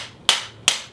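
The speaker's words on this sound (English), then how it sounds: "with the provided hammer, just gently tap the tubes out of the" Hammer gently tapping Briley choke tubes out of a Blaser F16 shotgun barrel, giving three sharp, close metallic taps spaced about a third of a second apart, the last one lighter.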